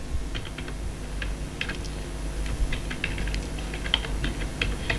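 Fingers tap out a message on a computer keyboard in quick clusters of crisp keystrokes over a steady low background hum, near and alone with no voices.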